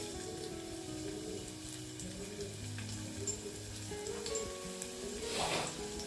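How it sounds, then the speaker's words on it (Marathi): Garlic fries in hot oil in a pan, a faint, even sizzle heard at a distance beneath a soft tonal background hum, swelling slightly toward the end. "तेल तापलेलं आहे याच्यामध्ये मी आधी लसूण टाकते"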